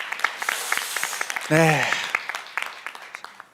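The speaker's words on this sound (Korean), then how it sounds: "응원의 박수 부탁드립니다." Scattered audience clapping at an award ceremony for a political party's women's policy contest, crisp claps spread across the clip while a voice briefly speaks over them midway.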